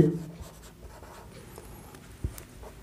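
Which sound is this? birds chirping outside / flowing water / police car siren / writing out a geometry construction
writing out a geometry construction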